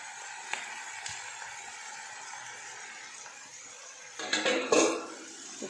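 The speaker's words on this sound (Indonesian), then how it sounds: "Terus kita masukin bihunnya." Rice vermicelli going into a home-kitchen pan for bihun goreng, with a soft rustle and faint scraping for most of the stretch, then a louder burst of clatter and stirring near the end.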